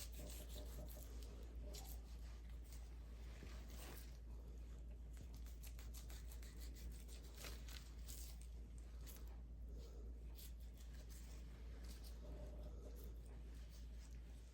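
A knife trims excess fat from a Costco Prime New York strip steak, giving a faint, continuous rubbing and scraping over a low steady hum, with no talk.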